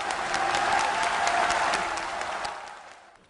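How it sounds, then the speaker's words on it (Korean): A crowd breaks into warm applause, dense clapping that holds steady before fading away near the end. "뜨거운 박수로 맞아주시기 바라겠습니다"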